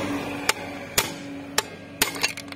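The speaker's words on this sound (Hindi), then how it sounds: "अब हम इधर एक्सल की मदद से इसे ठोक देंगे" An axle driven by hammer blows to knock a scooter's hanger bush out, about five sharp metallic strikes spaced roughly half a second apart, close and distinct over quiet workshop hum.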